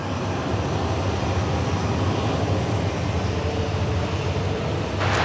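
Airbus A321 taking off from runway 16 right at Sydney Airport, a steady broad jet roar with low rumble, moderately loud and unbroken, ending with a brief sharp high click.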